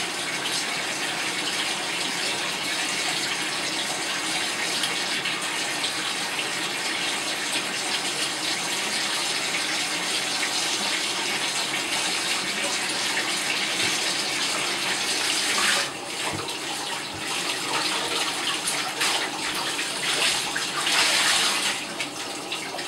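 Cloth diapers are rinsed under a running tap, a loud continuous gush of water with splashing and sloshing shifts as the fabric is handled, close up and without talk.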